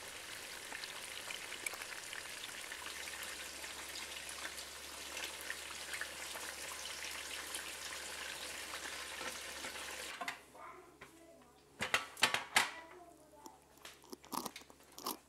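Food fries golden in a pan, with a steady, close sizzling hiss for about ten seconds, then gives way to sharper clatters and scrapes of cookware.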